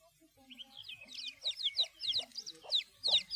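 Chicks and chickens in a farmyard, a quick run of high peeping and chirping calls with lower clucks mixed in, close and busy, with some talk faintly underneath.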